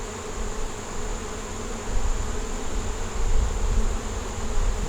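Bees buzz steadily around a beehive, a dense close drone that swells slightly in loudness without pause.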